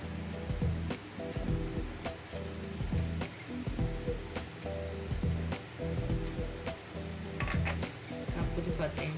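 Thick strawberry juice spooned into a glass, with repeated metallic clinks of spoon on glass and wet pouring splashes, close, under intermittent speech.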